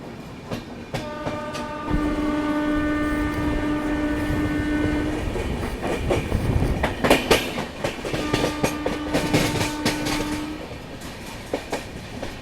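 Indore Daund Express train running after leaving Pune, a loud steady rumble of wheels on track with clickety-clack, and two long horn blasts sounding alone, one near the start and one near the end.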